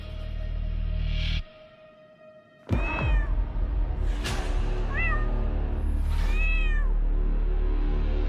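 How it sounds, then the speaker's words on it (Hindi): A pet cat meows several times up close, the short, rising cries coming in a loose series after a brief lull, over a steady background hum. "बिल्ली पाल रखी है आपने तो"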